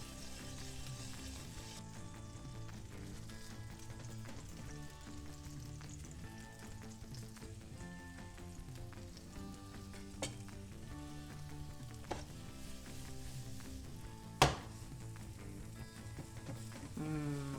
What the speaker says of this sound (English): The onion is sweating